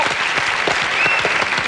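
A French television studio audience applauds steadily, a dense, even burst of clapping lasting a couple of seconds with no voices on top.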